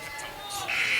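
At a high school girls' subdistrict semifinal basketball game in Sidney, the end-of-game buzzer comes in suddenly for the last half-second, a sustained bright tone over crowd noise and a commentator talking.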